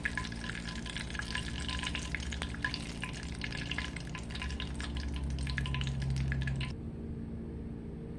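Pieces of chicken for a hot and spicy fried chicken sandwich sizzle and bubble steadily in hot oil, a loud close crackle that runs on and then drops away abruptly near the end.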